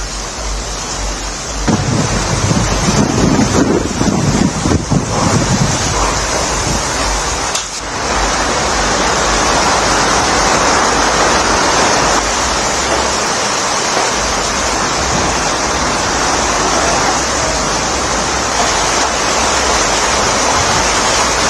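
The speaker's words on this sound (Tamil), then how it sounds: "அசாம் மாநிலம் கவுகாத்தியில் பலத்த காற்றுடன் பெய்த சாரல் மழை" Strong wind blows with drizzling rain in Guwahati, Assam, making a loud, continuous rushing hiss with a brief buffeting gust near the start and no voices.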